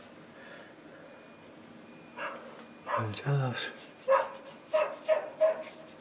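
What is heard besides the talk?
yappy dogs barking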